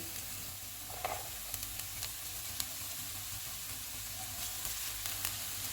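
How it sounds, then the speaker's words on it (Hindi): Capsicum and cabbage frying in a pan for spring roll filling give a steady, faint sizzle throughout, with a few soft stirring clicks and no talk. "दो मिनट के बाद शिमला मिर्च और बंद गोभी डालेंगे।"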